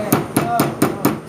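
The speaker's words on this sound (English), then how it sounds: "I'm just simply doing it with a hammer and stake." An annealed metal coil is hammered on a stake, five loud ringing metallic strikes in an even, steady rhythm, close up and with no voices.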